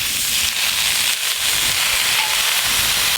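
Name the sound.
washed pumpkin flowers added to frying onions, sizzling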